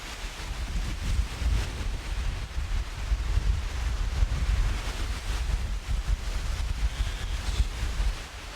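Strong wind in Canada buffets the microphone in continuous low roaring gusts, loud and rumbling throughout, with no voices.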